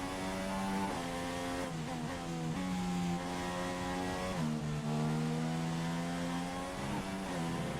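Simulated Formula 1 car engine in the F1 2016 racing game, screaming steadily at high revs in fifth gear near 200 km/h, with quick gear-change dips in pitch and a continuous loud drone throughout.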